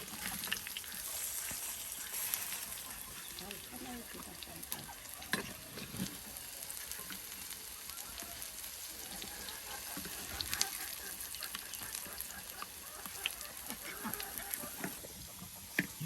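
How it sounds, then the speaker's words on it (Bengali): Red lentil fritters deep-frying in plenty of oil, giving a steady crackling sizzle with scattered pops throughout, close and fairly quiet, with no talking. "আর বেশ তেল দিয়ে কিন্তু এই বড়াগুলো আপনার ভেজে নিচ্ছে।"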